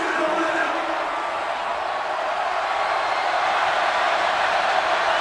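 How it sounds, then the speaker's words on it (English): A steady roar from the stadium crowd at a 2022 LSU at Arkansas college football game, a constant wash of noise that runs throughout while a commentator talks over it. "You can hear this crowd right back in this game."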